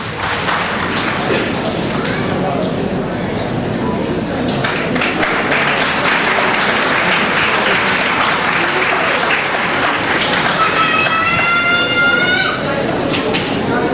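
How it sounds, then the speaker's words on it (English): Loud, sustained audience applause at a school and junior college annual day, dense clapping over the whole stretch, with a brief whistling tone rising near the end. "A big round of applause for them"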